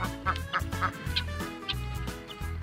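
A duck quacks repeatedly at close range on a farm pond setting, a run of loud, honking calls in short bursts with no talking.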